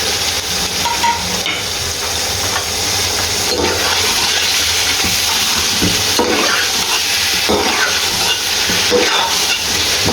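Large chunks of beef frying in a pot for Kabuli pulao, a steady loud sizzle with occasional stirring scrapes throughout, no talking.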